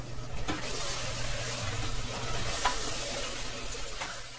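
Mutton stirred together with freshly added masala spices in a pot over a high flame for achar gosht, giving a continuous close sizzle with soft scraping stir strokes throughout.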